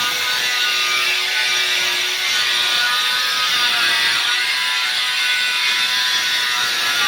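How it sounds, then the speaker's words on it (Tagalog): An angle grinder cuts bathroom tiles, a steady, loud, harsh abrasive whine with gritty rasping texture that runs continuously without pause. "Ito ng grinder."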